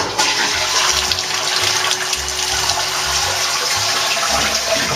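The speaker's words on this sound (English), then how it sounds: "When you flush, water comes out automatically." Japanese toilet flushing while water runs automatically into the sink basin on top of the tank, a loud continuous rushing and splashing stream with no talk.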